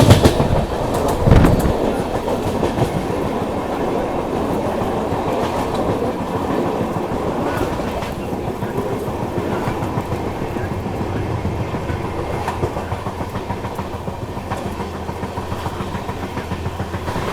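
The 12809 Howrah Mail running on a single-line route toward Gondia, heard from aboard as a steady loud rumble and rattle of the moving carriages, with a brief bump near the start.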